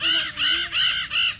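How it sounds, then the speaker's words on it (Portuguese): A parrot squawks four times in close succession, each call a harsh, loud, nasal burst near the listener with brief gaps between them, and no talking over it. "Papagaio."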